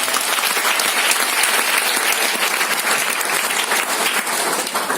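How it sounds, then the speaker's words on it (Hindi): Loud, sustained applause from a sizable crowd welcoming a speaker at a Mi Lifestyle business meeting, steady clapping throughout with no talking. "जोरदार तालियों के साथ वेलकम करें"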